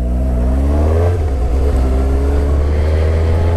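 A 2017 Suzuki GSX-S750 motorcycle engine pulls hard under acceleration, its loud, steady roar climbing in pitch, then easing briefly and building again, close and continuous with no talking.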